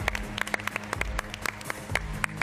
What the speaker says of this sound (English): All right, one more round of applause for Pulte.